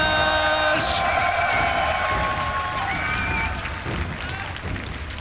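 A live StarCraft 2 tournament crowd at IEM Toronto applauds and cheers loudly and steadily throughout, with scattered whoops. A caster's amplified voice rings over the arena noise.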